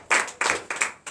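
A church congregation claps in unison at a night deliverance service, four sharp, evenly spaced clap bursts close up, loud and crisp, with no speech.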